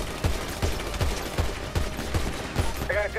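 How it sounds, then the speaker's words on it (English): Rapid bursts of automatic gunfire in GTA V, evenly spaced sharp shots in a steady rhythm that fill the clip at close range, with faint voices underneath. "He's shooting. Shot."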